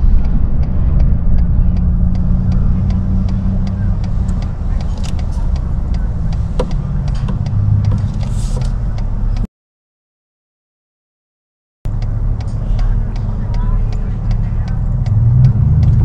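Steady road traffic rumbles around a car in Memphis near Bass Pro Drive, a constant low engine and tire drone with passing vehicles, briefly cut out partway through, while people talk inside.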